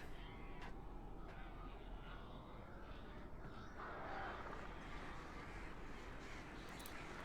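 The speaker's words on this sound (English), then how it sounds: "this is some interesting sounds those birds are making" Crows caw in the video game Alan Wake Remastered, a few scattered, distant calls over a constant low ambient bed of game atmosphere.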